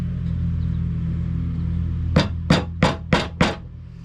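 Five sharp, evenly spaced hammer taps on the edges of a Craftsman MTD Yardsman mower deck bearing, close and loud over a steady low motor hum, with no talking.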